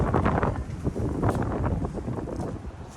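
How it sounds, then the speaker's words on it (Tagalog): Strong wind buffets the microphone in a steady, loud roar with gusty fluctuations throughout, no voices. "Ang lakas ng hangin."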